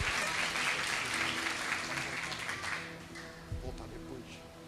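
Church congregation at a conference service clapping together, dense sustained applause that is loud at first and gradually thins and fades out over a few seconds, with a few voices mixed in.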